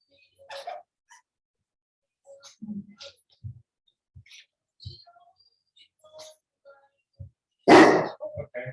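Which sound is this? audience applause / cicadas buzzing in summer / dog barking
dog barking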